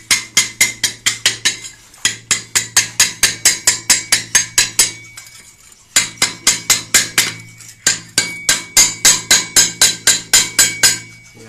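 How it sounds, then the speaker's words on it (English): A hammer knocking dried concrete off a metal hoe, sharp ringing metallic strikes in rapid, steady bursts with short pauses between runs, loud and close, with no talk. "Maybe hammer it."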